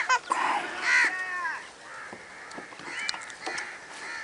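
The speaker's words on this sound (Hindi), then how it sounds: "कौवे आ गए हर तरफ" Crows cawing all around an outdoor meal, harsh calls overlapping in quick bursts, some close and loud, others farther off, with a few other bird notes mixed in.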